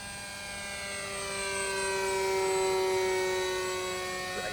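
The engine of an RC model airplane drones as it flies a low, tight landing pattern over a runway, with a steady buzzing tone that swells as the plane comes closer and then eases off.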